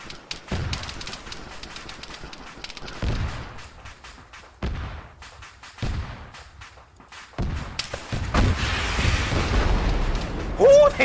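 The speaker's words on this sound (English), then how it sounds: "Ooh, they just put a tank shell in me." Tank shell impacts and explosions in the Arma 3 military game during a German civil war city battle: several sharp booms spaced across the stretch, with a heavier, sustained blast and rumble toward the end.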